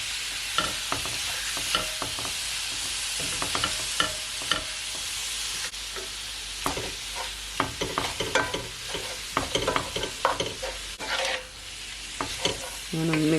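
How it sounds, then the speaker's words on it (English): Ground beef for tacos sizzles steadily in a hot pan for the whole stretch, with repeated scraping and clacking as it is stirred and broken up, close and loud with no voices. "And now I'm gonna add my ground beef."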